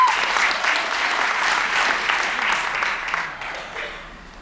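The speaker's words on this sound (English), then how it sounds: "Give him a round of applause" A crowd at a tribute gathering claps steadily and warmly, the sustained applause staying fairly even before tapering off slightly toward the end.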